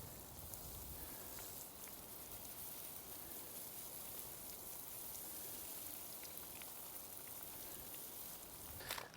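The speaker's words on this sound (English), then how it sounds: "I think this is realistic, guys, for a rain overhead." Water sprayed overhead onto target indicators to simulate rain, a steady faint hiss of falling droplets pattering on surfaces, continuous throughout with no talk.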